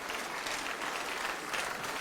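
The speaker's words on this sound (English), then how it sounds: "A round of applause for them." An audience at an ethical investment awards ceremony applauds the finalists with steady, dense clapping throughout, a continuous wash of many hands with no voices standing out.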